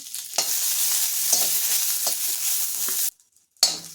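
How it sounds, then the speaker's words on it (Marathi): Cumin, green chillies and garlic crackle in hot oil in a pan, a close steady sizzle with spatula taps that cuts out briefly before resuming. "थोडंसं जिरं हिरवी मिरची आणि लसूण यांना आपल्याला छान परतून घ्यायचं आहे"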